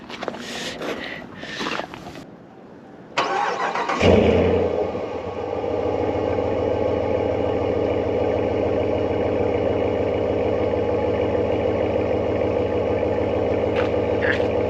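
A 2024 RAM 1500 Limited Night Edition pickup, after a few seconds of handling noise, cranks and fires up with a brief rising roar, then settles into a steady, deep, even idle rumble heard close and alone.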